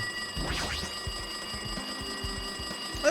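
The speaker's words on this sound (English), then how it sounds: "It looks like that phone is ringing." A ringing telephone in the video game Danganronpa 2: Goodbye Despair continues over pulsing game music, opening with a quick sweeping sound, then steady ringing, fairly loud, no talking.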